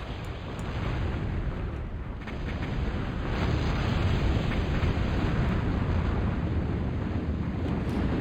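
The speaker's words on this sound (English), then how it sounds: "You hear that sound? That's actually the Dominators opening fire." Dominator units open fire in a strategy video game with a heavy, continuous rumbling barrage that swells partway through and holds steady and loud to the end.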